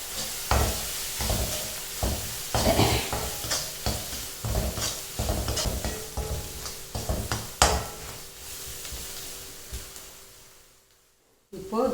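Onion-tomato masala with Kashmiri chili and turmeric powder sautés in a pan for palak paneer, a spoon stirring and scraping in repeated close strokes over a steady sizzle, a voice speaking over it before it fades near the end.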